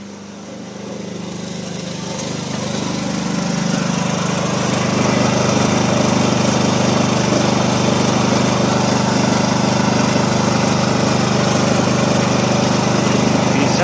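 Inverter generator engine running steadily and loud, a continuous droning hum that rises in level over the first few seconds and then holds constant, with no talking.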